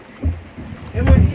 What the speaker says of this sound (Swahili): Hii bot tunaenda hivi. Umeona njia?